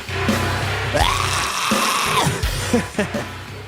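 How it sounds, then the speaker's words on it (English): Background music carries an eerie, screaming wail resembling the Flood creatures from Halo, a loud sustained dense texture with rising and falling howls and a few thumping hits. "That sounds like the flood like screaming from Halo."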